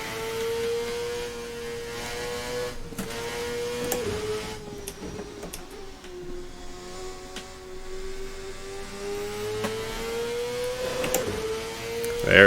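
A 1999/2012 IndyCar in a racing sim runs at full turbo, its engine a steady, loud, high-pitched drone that wavers briefly as if shifting, then holds its pitch under a sustained whine.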